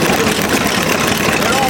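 An antique stationary engine scratch-built from metal runs at an engine show in Batsto Village, New Jersey, a close, loud, steady chugging drone with a flapping exhaust, while people talk nearby.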